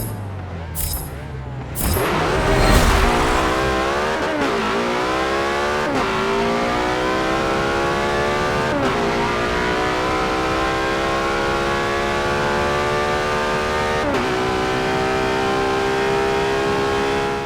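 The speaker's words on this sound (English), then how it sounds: "now we are on to the 2014 Porsche 918 Spyder. This will be a fun car to run down this drag strip here" A 2014 Porsche 918 Spyder launches down a drag strip in the racing game Forza Motorsport 7. Its engine note climbs loud and steady through several sharp gear shifts with no break, and no one speaks.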